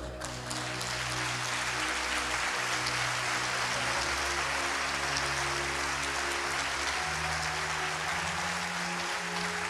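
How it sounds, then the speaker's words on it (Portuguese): A church congregation applauds during a sermon, a steady, continuous roar of clapping lasting nearly ten seconds over sustained keyboard chords that shift slowly underneath. "Aplauda o Senhor, irmão."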